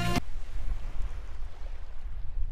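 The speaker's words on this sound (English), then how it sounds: "That's the sound of waves." Ocean waves wash onto a sandy beach on the Maine coast, a steady low rumbling surge with wind buffeting the microphone, following a brief burst of another sound at the very start.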